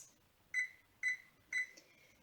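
Kitchen timer beeping three times as it is set, clear high-pitched electronic beeps evenly spaced about half a second apart in a quiet room.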